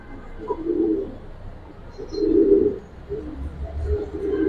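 Pigeons in a loft, Giribaz and coloured pigeons including Kaldom, giving soft low repeated coos in three or four rounded bursts, close by and otherwise quiet.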